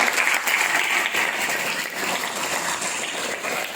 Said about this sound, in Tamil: அதில் ஒரு ஜோரான கைத்தட்டல் அவங்களுக்கு.